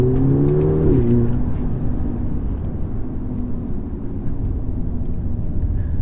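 A 2008 Audi TTS engine pulls hard under acceleration, a loud steady growl with a rising rev sweep early on, then settling into a continuous near drone with road noise.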